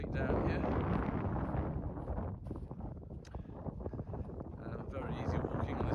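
Strong gusting wind roars into the microphone on an open clifftop coastal walk near Houns Tout and Chapman's Pool, a loud continuous rumble that swells and dips throughout.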